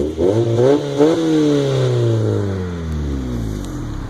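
A 1998 Acura Integra GS engine revs up twice with a raspy exhaust note, then settles and winds down in a long, falling drone, loud and close with no talk.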